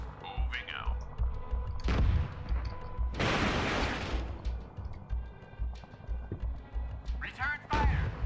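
Battlefield gunfire in the tank combat game GHPC, a sustained loud burst of shots mid-clip amid rumbling engine noise and scattered reports, with radio-style voices talking at times.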